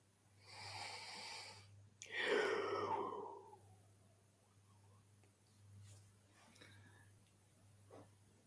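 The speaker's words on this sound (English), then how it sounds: "You yawned, you're going to make me yawn." A man's yawn during a live football match watch-along, one drawn-out breathy vocal yawn falling in pitch, close to the microphone, followed by quieter background noise and faint murmurs.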